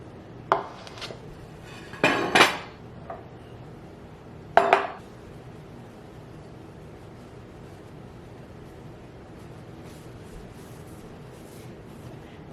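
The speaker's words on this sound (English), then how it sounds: "I'll bring all of it over here, dish it up, and show it to you before I feast." Mujadara of spicy rice, lentils and caramelized onions being dished onto a plate, with a few clanking spoon and dish knocks in short bursts followed by quiet.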